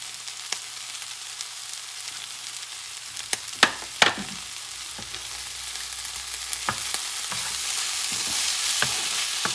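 Ingredients for black rice paella sizzle steadily in a frying pan on medium heat under a soft frying hiss, with a few sharp scraping stirs and clinks of the utensil against the pan.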